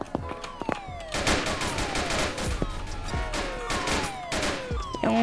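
Rapid bursts of gunfire from the police video game Notruf Hamburg ring out loudly over several seconds, with sharp repeated shots, crashes and lingering game effects filling the mix.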